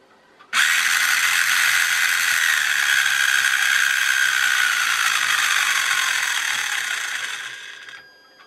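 A small RC motor on a cheap electronic speed controller spins in reverse, starting abruptly into a loud, steady rattling whir that holds for several seconds, then slowly winds down and fades.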